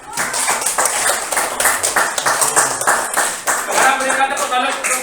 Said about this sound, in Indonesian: tepuk tangan untuk kelompok pilot